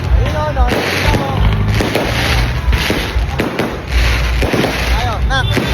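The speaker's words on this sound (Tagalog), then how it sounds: "Ayan, no, yung mga fireworks." Fireworks going off in quick succession, loud crackling bursts and sharp pops with whistling rises, close and continuous, while people talk and react over the blasts.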